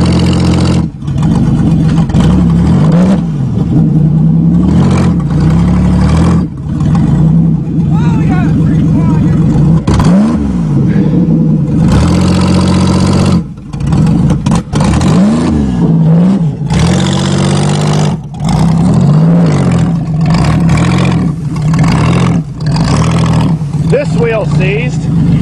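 An old Buick engine revs hard in repeated surges, loud and close, as the car strains against a seized back wheel, with people talking over the roar.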